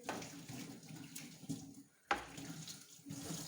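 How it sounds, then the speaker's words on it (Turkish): Water runs from a tap into a kitchen sink as items are washed by hand, a steady close splashing flow with a sharp clatter midway and brief dips and bumps as dishes are moved. "Bunları burada yıkayayım."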